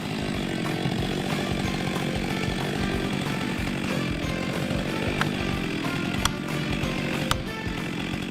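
Stihl MS 462 chainsaw with a 72.2 cc engine felling a tree, a steady loud high-revving roar running the whole time with a few sharp knocks and cracks near the end.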